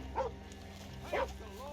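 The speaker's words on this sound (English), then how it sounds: "This game is making us kill very sick dogs" Sick dogs in a video game give two short, close yelping barks, one near the start and another about a second later, over a steady low background hum.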